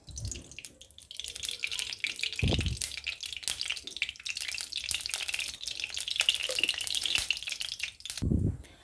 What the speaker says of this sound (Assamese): এতিয়া মই এড কৰিছোঁ সৰিয়হ তেল